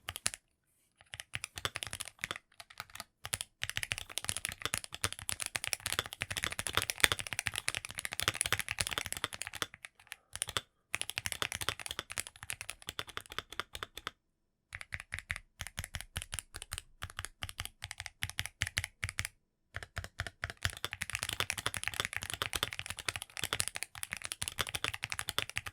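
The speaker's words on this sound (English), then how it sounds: "This keyboard also features linear Akko cream yellow magnetic switches which feel and sound great to use." Rapid typing on an Akko MOD 007B HE Hall effect keyboard with linear cream yellow magnetic switches, a dense, even clatter of close keystrokes broken by a few short pauses, with no voices.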